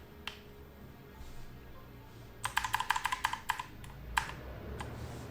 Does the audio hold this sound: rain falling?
no